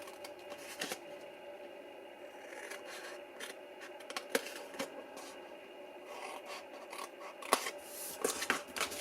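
Scissors cutting cardstock at a craft table, a run of quiet crisp snips and paper rustles, irregular and close, with a few sharper clicks and no talking.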